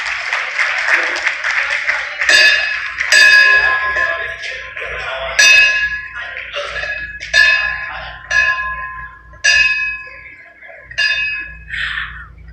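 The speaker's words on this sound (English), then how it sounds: "with that powerful ring of the ceremonial bell" A ceremonial bell rung repeatedly at a National Stock Exchange listing ceremony, bright metallic strikes rising over applause and crowd noise.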